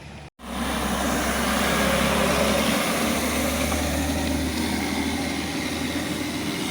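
On the Yercaud ghat road in the early morning, a vehicle engine labours up a hairpin bend, a loud, steady low drone that starts abruptly after a brief gap and holds strong throughout.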